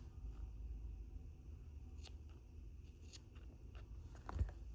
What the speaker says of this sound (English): take the yellow yarn, the long one, and cut it to the same size of the short